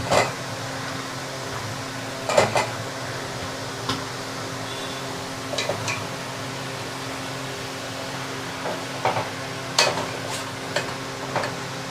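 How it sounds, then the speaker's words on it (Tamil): Whole quail go one at a time into a hot pan. Each lands with a short sizzling burst over a quiet steady fan hum, giving several separate bursts spread out across the stretch. "காடையே ஒன்று ஒன்றா உள்ளே போட்டுடலாம்."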